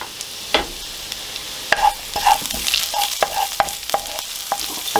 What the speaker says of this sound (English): The pan's now hot, got some oil in it. I'm just going to chuck in the garlic